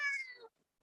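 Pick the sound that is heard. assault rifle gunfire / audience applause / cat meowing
cat meowing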